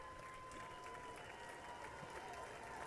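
Applause from a State of the Union broadcast, a steady continuous wash of clapping held low and muffled under the program audio, with some voices in the room.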